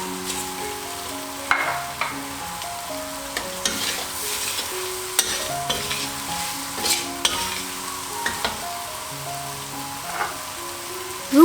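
Mee goreng noodles with bean sprouts stir-fried in a pan, a constant close sizzle broken by frequent scraping and clanking stirs at an uneven rhythm, with no talking.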